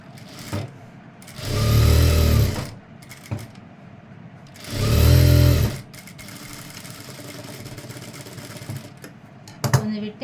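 A sewing machine runs in two bursts of stitching, each a few seconds long, as a dart is sewn into chudithar lining, with quieter handling and clicks between the runs, close by.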